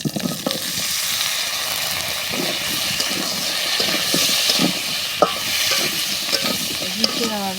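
Sweet pumpkin fries in a pan with a steady, close sizzle, broken by repeated scraping and stirring strokes and a few sharp clinks of the utensil.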